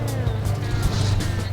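An off-road vehicle works along a dirt trail, its engine droning loud and close with a steady low hum and rattling, rumbling texture over a short stretch.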